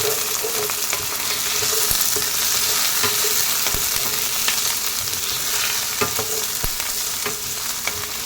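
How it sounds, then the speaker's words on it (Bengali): Chopped onion with ginger and garlic fries in a pan for egg fried rice, a steady dense sizzle with scattered sharper crackles and utensil scrapes as it is stirred, close and continuous without talk. "এবারে দিয়ে দেব কুচনো পেঁয়াজ, ভালো করে নাড়াচাড়া করে নেব।"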